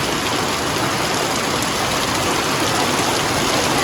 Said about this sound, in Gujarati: બરાબરનો વરસાદ ચાલુ થઈ ગયો હોય